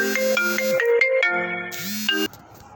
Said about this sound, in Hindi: सॉरी क्लास, बीच में फ़ोन आ गया था